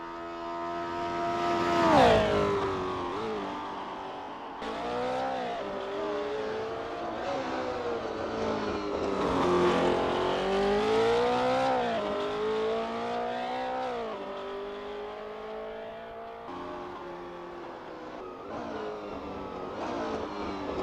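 A Porsche 908 LH race car engine roars in Assetto Corsa during a practice session at Longford. It is loud and continuous, with rising and falling revs and gear changes across about twenty seconds.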